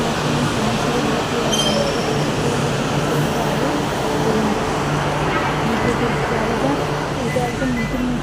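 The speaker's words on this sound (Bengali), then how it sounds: "এটা একদম নতুন মেট্রো ছিল, নতুন মেট্রোটা এসেছে" A new metro train rolls into a station in Kolkata, a steady loud rumble of wheels and carriages with faint squeals, while people talk in the background throughout.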